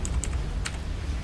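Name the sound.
computer keyboard typing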